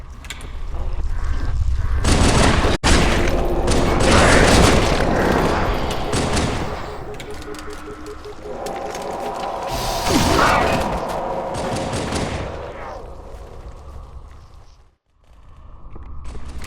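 Suppressive gunfire from a Halo 2 campaign battle: dense bursts of shots and booms crowd together for several seconds, ease off, swell again near the middle, then drop to a brief near-silence before resuming.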